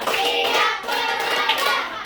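A classroom of children claps in a counted rhythm, bursts of sharp hand claps grouped in short beats, loud and close, with little talk.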